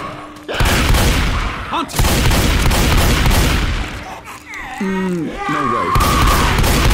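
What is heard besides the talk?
shotgun firing in video game Left 4 Dead 2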